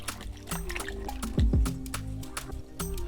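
Plantains being stirred by hand in water seasoned with adobo and black pepper, giving close wet squishing, sloshing and dripping sounds with a louder splashy burst midway and no talking.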